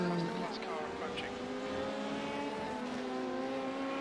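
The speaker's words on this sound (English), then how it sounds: "So that's the class car approaching." A race car at Watkins Glen in iRacing closes in, its engine a rising, sustained whine with shifting tones that grows steadily over several seconds.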